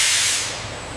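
Steam hisses off layers of camel meat biryani in a modern factory, a loud, breathy burst that fades slightly over about a second, heard alone.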